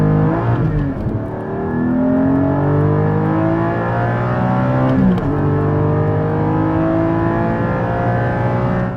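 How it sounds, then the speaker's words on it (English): A Porsche 718 GT4 accelerates hard through the gears, its engine note climbing in long rising sweeps with two sharp drops at the shifts; loud, close and steady, with no talk over it. "I was just ripping through the gears."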